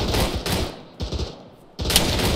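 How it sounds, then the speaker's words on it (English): Bursts of automatic gunfire in the military shooter game ARMA 3, heard as loud rapid volleys broken by short pauses, with no talking over them. "Sounds like there's a lot of gunfire coming from inside those hangars."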